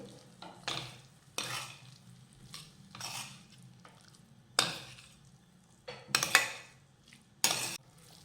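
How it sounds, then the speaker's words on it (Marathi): Grated paneer is stirred in a pan with repeated bursts of scraping and clanks from the utensil, separated by quieter pauses over a soft sizzle, close and without speech. "आता हे पनीर घातल्यानंतर पनीर मिक्स करून घेऊयात"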